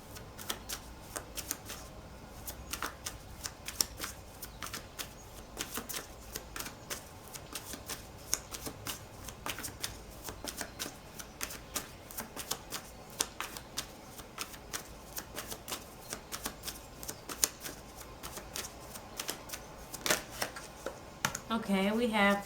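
Tarot cards being shuffled, a long run of quick, faint riffling and flicking clicks repeated throughout, with a voice speaking softly over them.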